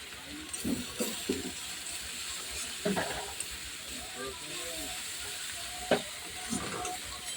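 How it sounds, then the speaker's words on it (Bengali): Garlic paste fries in a pan on lowered gas until reddish, giving a steady soft sizzle broken by a few spatula scrapes, with a voice talking over it. "ভালো করে লাল করে ভেজে নেব। গ্যাসটা কমিয়ে দিয়ে ভেজে নেব।"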